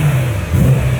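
A car engine revving hard with a rough, motorbike-like note, a loud steady low drone that swells slightly midway, close to the microphone.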